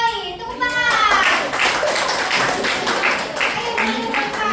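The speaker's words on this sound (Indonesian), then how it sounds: "Tepuk tangan." A high school classroom of students claps for a group called to the front, rapid scattered clapping under overlapping young voices and chatter.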